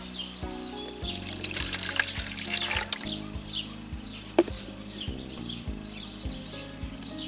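Warm water poured into a cut plastic PET bottle container, a steady trickling pour with rising gurgles as it fills, close and fairly loud, with faint bird chirps behind it.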